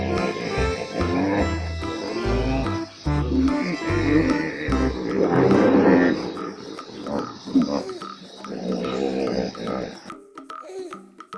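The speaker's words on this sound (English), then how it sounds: "Hippopotamus." Hippopotamus vocalising close by: a long run of loud, deep grunting and wheezing honks in uneven bursts, fading into quieter snorts near the end.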